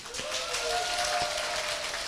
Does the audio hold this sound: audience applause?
yes